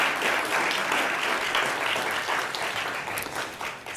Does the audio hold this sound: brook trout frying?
no